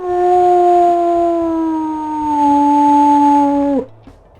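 A single long, deep wolf howl in a video game with a steady tone sustains loud and close for nearly four seconds, then cuts off abruptly.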